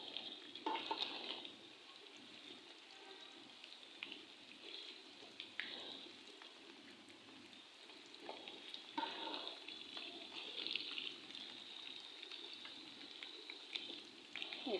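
Koftas fry in ghee with spinach masala, giving a soft, continuous sizzle and bubbling with occasional stirring and scraping, fairly quiet and close with no talking.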